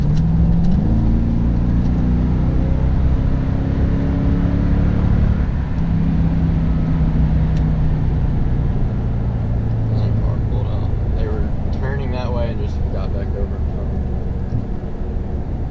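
Toyota Tundra 5.7L V8 with a Flowmaster Super 44 exhaust, in tow mode, revving and rumbling while driving, a loud low drone rising and falling over several seconds, with a small pop.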